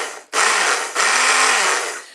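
A Breville stick blender whirs loudly in a tall container, starting with a sharp jolt, briefly cutting out and restarting, then running in a steady high-pitched buzz that slowly fades.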